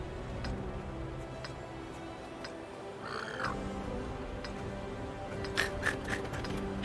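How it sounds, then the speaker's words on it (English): A bird call in the World of Tanks video game: a short chirping cry about midway through, set against a low, steady in-game ambience with a few faint clicks. "As soon as that bird made that noise"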